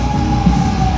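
Loud wailing sirens blaring through a wrestling arena as part of entrance music, a sustained piercing tone over a dense crowd-and-music rumble.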